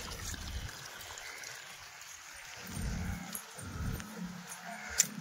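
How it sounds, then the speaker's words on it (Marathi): Water runs from a hose onto garden plants in a steady hissing trickle, with a few low thuds and a brief sharp click near the end. "तर इकडं सोडले मी पाणी."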